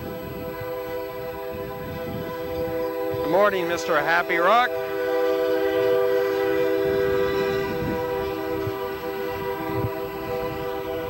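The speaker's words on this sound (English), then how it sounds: "the train going through town." A train passes through Gladstone town during a 1988 Krazy Days parade, with a rising horn blast in the middle over a steady rumble and crowd noise, and a voice speaks near the start.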